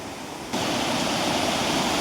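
At Kochu Kuttalam, water cascades over a large rock face, a dense steady roar that begins abruptly and then holds loud and close without any voices.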